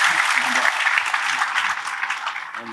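Audience claps together at an Indonesian gathering with Cak Nun, a full, steady round of applause that fades slightly toward the end with faint voices underneath.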